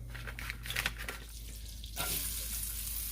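A pat of butter melting into warm extra virgin olive oil in a pan, a soft crackling sizzle with a few light clatters early on, then a steadier, brighter hiss near the end over a low background hum.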